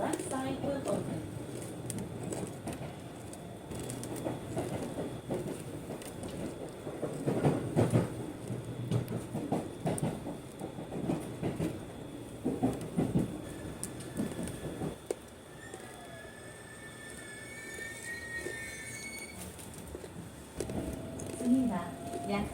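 A local train runs on rails near Nagoya, with a steady rumble and faint clatter heard from inside the car, then easing as it slows; a recorded station announcement plays over it, with rising electric motor whine near the end.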